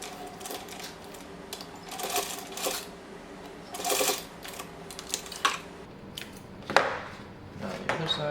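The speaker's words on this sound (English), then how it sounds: "we're at the sewing machine now. I'm just going to baste on the elastic on both sides." A sewing machine basts elastic onto a fabric minimalist wallet, giving short bursts of stitching separated by pauses and small handling clicks, close and moderately loud throughout.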